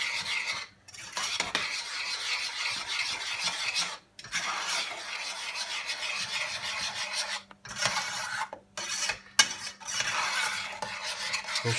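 Spoon stirring parmesan into a cheese sauce in a pan, producing a close, steady scraping and rasping against the pan with brief pauses between strokes and a faint sizzle, no talking.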